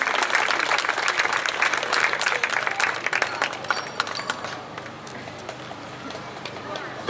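Audience at a debate gives a burst of encouraging applause, loud and dense clapping that holds for several seconds before fading to scattered claps and murmuring.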